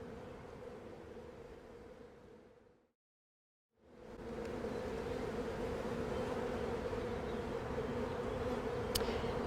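Honey bees from a three-pound package buzz around the hive during installation, a dense steady hum that cuts out briefly, then returns louder and fuller, with no voices.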